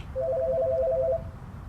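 A telephone rings once with a short electronic warbling trill of rapid beeps, moderately loud over a low room hum.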